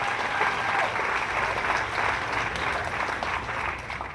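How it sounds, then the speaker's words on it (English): Steady, dense crowd applause at a George Floyd rally in Matthews, North Carolina, loud and sustained throughout without a break. "let's give her a round of applause."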